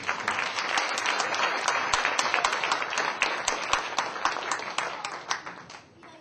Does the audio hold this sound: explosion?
no